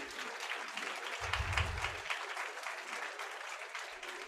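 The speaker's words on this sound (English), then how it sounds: "Can we hear a huge round of applause for the teachers," Audience applause for teachers at a school meeting, a continuous patter of many hands clapping, moderately close and steady for a few seconds.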